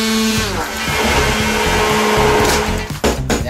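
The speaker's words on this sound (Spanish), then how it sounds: "y ahora lo que vamos a hacer, vamos a coger una batidora." A hand blender whirs loudly and steadily, its motor note wavering as it purées thick carrot and ginger soup, then briefly sputtering near the end.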